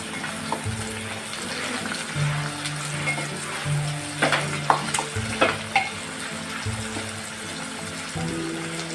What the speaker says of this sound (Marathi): आता आपण त्याच्यामध्ये टाकणार टॉमॅटो टॉमॅटो आपण परतून घेणार आहोत